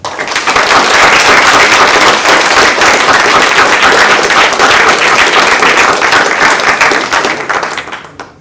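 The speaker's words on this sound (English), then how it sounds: "let's give a round of applause to all those people that helped us out" Symposium audience applauding loudly for the project helpers, a dense, steady burst of many hands that holds for about seven seconds before tapering off at the end.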